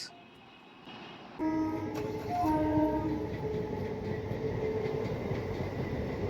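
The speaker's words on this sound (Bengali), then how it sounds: "একটা ট্রেন ওদিকে যাচ্ছে তার আবার ওদিক থেকে একটা এলো" A train rumbles past steadily near Bolpur, West Bengal, India, with a horn blast early on and a continuous heavy roar of wheels on the rails.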